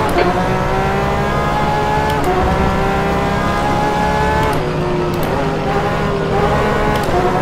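A Porsche 911 RSR GTE racing at Portimao in rFactor 2 howls loud and close, its engine note climbing steadily through the revs and dropping sharply at several gear shifts, sustained with no break.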